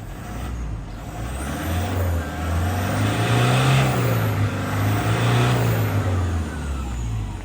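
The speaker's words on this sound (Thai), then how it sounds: "คราวนี้ผมจะพามาเร่งเครื่องยนต์ให้ดูนะครับ" A Toyota Vigo Champ 2.5 TRD pickup engine revs up and down several times, loud and close, with rising and falling surges and no talk.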